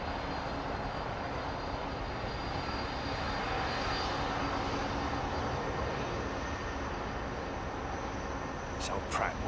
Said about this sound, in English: This old Pratt & Whitney engines, look. Listen to that.